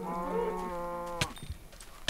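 A cow in the Minecraft video game gives one loud, drawn-out moo, close and alone, followed by a few sharp clicks and game thuds.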